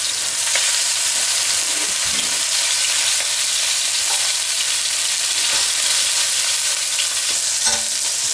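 Mexican chorizo burger patties fry in a hot pan, giving a steady, loud sizzle and crackle throughout, with a few brief scrapes and clinks of a spatula.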